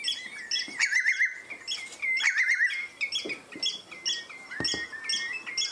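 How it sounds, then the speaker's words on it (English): Oystercatcher on the Medway Estuary near its nest, giving repeated shrill squeaky piping calls with quick trilled runs, loud and close, mixed with other bird calls throughout. "So the real squeaky cheep, that's the oyster catcher."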